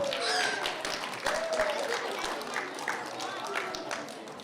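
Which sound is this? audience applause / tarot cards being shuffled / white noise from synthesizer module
audience applause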